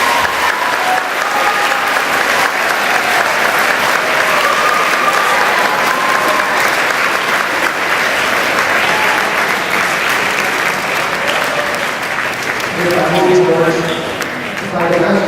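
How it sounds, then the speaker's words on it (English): Loud, sustained applause from a crowd honouring a leader at a student torch event in Brantford, Ontario, continuing steadily before voices begin speaking near the end. "join me, if you could, in a round of applause for a true leader in Canada"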